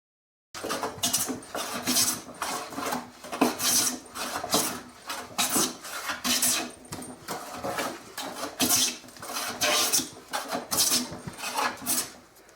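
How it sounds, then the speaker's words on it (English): A hand saw resaws a board of alder in a steady run of rasping back-and-forth strokes. They sound close and fairly loud and continue for several seconds with no talking. "So, yeah, I'm just going to stick at sawing it, resawing it by hand."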